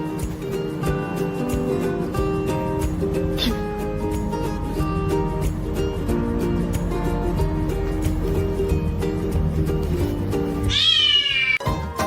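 A munchkin kitten meows over a bed of background music, with a few short cries scattered through and a sharper, rising call near the end.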